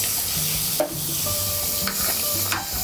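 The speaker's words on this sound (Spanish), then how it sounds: "Vamos a saltearla." Diced vegetables sizzling in olive oil in a preheated pot, a steady loud frying hiss with a few stirring scrapes and clinks of the utensil against the pot.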